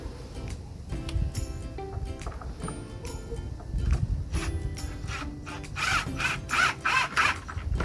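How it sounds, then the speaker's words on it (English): A power driver sinks a 1 5/8 inch screw into a pre-drilled hole in wood, giving a close whirring, ratcheting grind in several short bursts that build in intensity. "And then I take my 1 5/8 screw and just park it down inside there."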